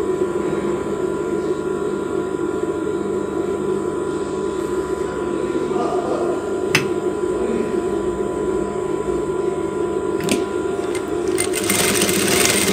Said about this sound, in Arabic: غادي نشدو على هذا الشكل ونعمل له هكذا ونقلب ونخيطو بهذه الطريقه هذه